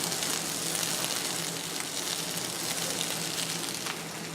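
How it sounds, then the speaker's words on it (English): Onions sizzle and fry in a hot pan, a steady close crackling hiss lasting throughout with no talk. "So I'll add these onions in here."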